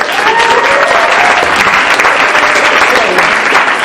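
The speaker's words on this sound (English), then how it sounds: "Give him a round of applause." Steady applause from a crowd at a campus gathering, loud and sustained throughout with no pauses.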